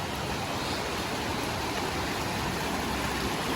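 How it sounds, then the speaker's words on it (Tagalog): Rushing water pouring through a river spillway after a flood, a loud, continuous broadband roar with no pauses or talk. "Yan yung spillway namin."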